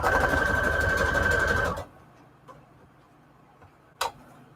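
A sewing machine runs steadily with a rapid stitching whir, working a wide zigzag stitch on scrap lace trim, then stops abruptly, leaving a quiet room with a couple of small clicks.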